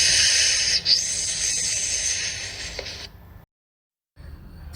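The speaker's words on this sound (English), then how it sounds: "Snake says hiss." A steady, sharp hiss, like a snake, runs for about three seconds, then stops. After a brief silence, a faint noise returns.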